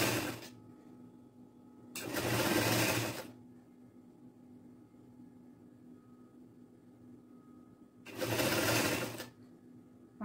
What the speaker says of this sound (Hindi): मैं 5 की स्टिचिंग कर रही हूँ इसकी।